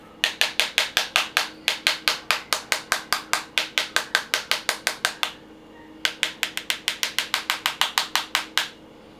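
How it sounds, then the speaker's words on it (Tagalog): A hammer strikes the screen of an itel S25 Ultra phone during a durability test, a fast, steady series of sharp, bright taps, close and loud, pausing briefly midway before resuming. "pinupukpok ko na yan"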